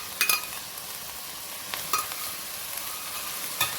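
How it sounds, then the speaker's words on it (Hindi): Browned onions and yogurt stirred into a chicken and potato korma in a pan, with a few soft scraping strokes over a steady low sizzle. "इसको अच्छी तरह से मिला लेंगे"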